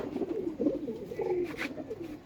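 A pigeon coos in a low, rolling, throaty burble close by, repeating a few soft phrases with a faint higher chirp near the end.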